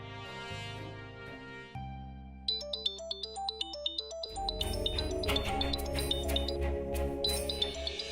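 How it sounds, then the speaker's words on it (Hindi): A telephone ringtone plays as a melodic electronic tune in a Hindi TV drama, a sequence of bright repeating chime notes that build into a fuller beat-driven pattern, clear and steady with no talking. "दादी का फोन।"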